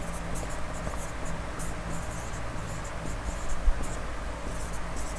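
A pen or chalk writes on paper or a board during a classroom lesson, producing soft intermittent scratchy strokes in short bursts over a faint steady background hum, close and quiet with no talk.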